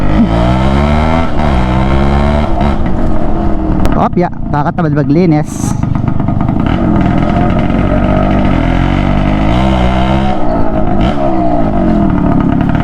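A 1998 Suzuki X4 125 two-stroke motorcycle engine runs loudly and steadily throughout, with a few sharper revs in the middle, while people talk over it close by.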